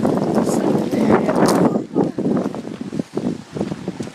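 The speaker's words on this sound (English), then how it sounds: "It's really windy." Strong wind from a tornado storm buffets the microphone outdoors in loud, continuous roaring gusts that ease into choppier bursts, with voices faintly mixed in.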